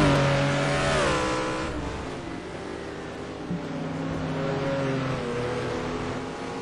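Race cars on the Anderstorp circuit during an STC touring car round, engines roaring loudly nearby with pitch sweeps as they approach and pass, layered with other cars droning on the track.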